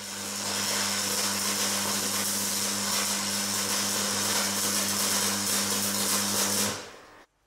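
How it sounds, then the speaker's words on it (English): Stick welding on thick steel plate at high current, a steady, loud crackling arc with a constant electrical hum running beneath it for about seven seconds before it abruptly cuts off, with no talking. "So a nice bit of thick plate and plenty of current. I'm happy stick welding that."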